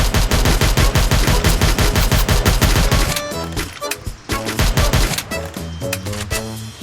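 Rapid automatic gunfire from the mobile battle royale game Free Fire, loud dense bursts of shots for about three seconds, then scattered, broken volleys with in-game effects.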